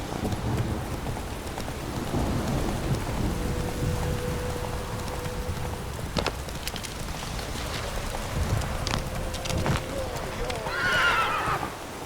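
Roach, a horse in the video game Witcher 3, clip-clops along steadily over a rain-like ambience, then lets out a clear, fairly close whinny near the end. A voice speaks briefly over it.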